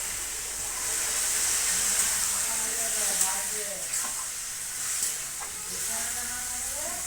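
Fried masala in a pan hissing steadily as water goes in, a broad continuous sizzle with gentle stirring scrapes and faint speech underneath.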